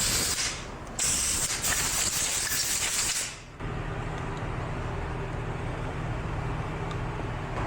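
Sharp hissing blasts of compressed air blowing out front brake caliper pins on a 2014 Nissan Xterra, a loud burst, a short gap, then a longer bright blast that cuts off into shop noise.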